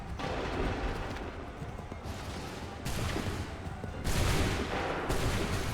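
Musket volleys in the Assassin's Creed 3 video game crack out in several loud bursts, each rolling into a rumbling echo, with soldiers' massed gunfire and battle noise filling the scene.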